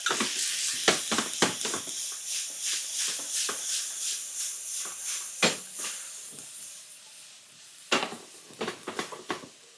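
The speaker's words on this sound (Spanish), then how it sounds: "Le añadiremos un poco de sal y lo vamos a saltear" Cooked octopus is sautéed with a pinch of salt in a hot pan, giving a continuous bright sizzle and hiss broken by repeated stirring strokes, close and steady.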